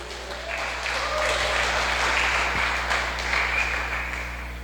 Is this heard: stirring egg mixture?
no